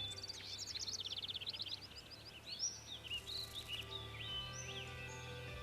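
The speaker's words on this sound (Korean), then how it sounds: "새의 울음소리가 들리시나요?" Several birds sing and chirp outdoors in a quiet setting, bright trilling phrases repeating over a low steady background hum, moderately distant and fairly soft throughout.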